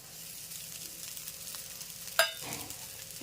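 Spices frying in a pan for hotel-style tava pulao, a steady close sizzle that flares into a sharp burst about two-thirds through as rice is tipped in, then settles back to crackling.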